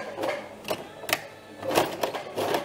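Sewing machine stitching fabric for a bread basket, a quiet, uneven run of rapid mechanical clatter with a few sharper bursts, close by with no talk.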